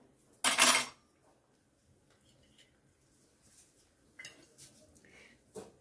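A spoon clatters against a pot while moong usal with grated fresh coconut is mixed, one sharp metallic clink followed by fainter scraping and tapping in an otherwise quiet kitchen.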